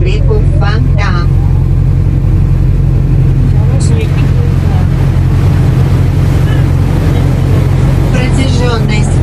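Motor ship cruising along the Fontanka river, a loud steady engine drone with wind and water rush close to the microphone, as a voice speaks over it.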